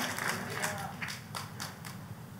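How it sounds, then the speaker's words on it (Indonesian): A church congregation claps enthusiastically, a dense, continuous crackle of applause with brief louder bursts and some crowd voices underneath. "Tepuk tangannya boleh yang paling meriah buat Tuhan kita."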